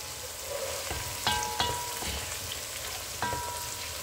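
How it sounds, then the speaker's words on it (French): Two chopped onions and three garlic cloves fry in a pan with a continuous soft sizzle. A few clear metallic taps of a utensil against the pan punctuate it, with no talking. "Deux oignons avec trois gousses d'ail. Je vais laisser cuire."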